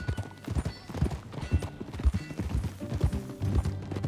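Horse hooves clip-clop steadily as the animal is ridden in Red Dead Redemption 2, close and rhythmic over a soft game backdrop.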